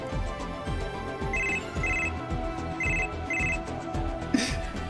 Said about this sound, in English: we still have that ringing sound